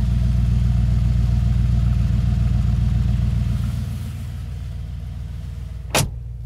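A 2020 Mercedes G63 AMG V8 idles with a deep, throbbing rumble that eases down partway through, then a brief sharp burst near the end.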